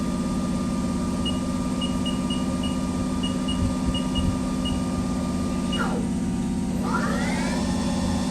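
A Haas TL-1 CNC toolroom lathe from 2011 runs its spindle up to higher speed with a steady mechanical hum and whir, a faint repeating ticking above it, and two rising sweeps near the end as the revs climb.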